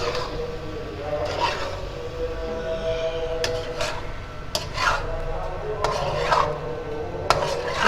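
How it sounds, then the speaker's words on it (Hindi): A spoon scrapes and stirs chicken vegetable macaroni in a pan over low heat, in repeated rasping strokes against the metal, with faint background noise. "मिक्स करने में थोड़ा अच्छे से मिक्स करना ताकि सारी सब्जियां इसमें ऐड हो जाएं"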